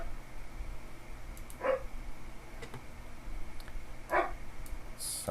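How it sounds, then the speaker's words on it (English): Distant dogs bark in short, faint bursts, one yap near the start and another about two seconds later, over a quiet indoor background. "Sorry if you hear my dog."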